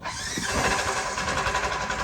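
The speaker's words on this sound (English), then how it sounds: "it sounds like a bag of hammers are in the engine" A Polaris Ranger 1000 NorthStar side-by-side with 9,942 miles runs badly, its engine knocking loudly in a rough, clattering drone with no voices.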